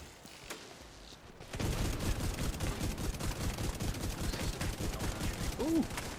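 Enemy gunfire in The Division 2, dense rapid shots bursting in after a quieter start and continuing as a loud, sustained barrage with a brief electronic chirp near the end.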